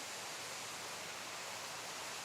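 Garden water feature behind a succulent specimen garden on a salty coastal cliff in Carlsbad, giving a steady, even rush of falling water with no breaks, moderately quiet.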